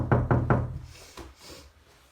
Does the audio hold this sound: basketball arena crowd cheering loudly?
no